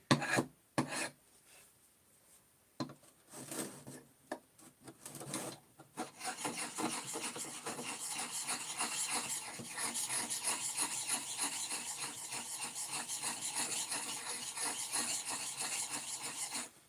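Sanding a wood block by hand for a son's table with a three-way joint, a few short scrapes at first, then a steady, continuous rasping rub close by with no talk.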